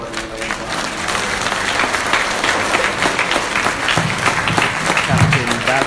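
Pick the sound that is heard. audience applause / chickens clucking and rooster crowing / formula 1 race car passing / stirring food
audience applause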